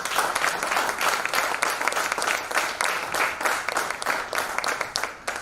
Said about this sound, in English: give ourselves a big round of applause for being here